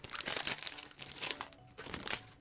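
Foil wrapper of a Pokémon Evolutions card pack from Dollar Tree being torn open, giving close, bright crinkling and crunching in irregular bursts across the clip, with a short quieter gap before more rustling.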